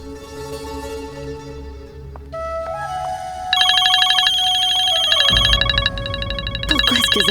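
A telephone ringtone plays in a house, an electronic melody that shifts between tones and grows louder partway through, with background music and sound underneath.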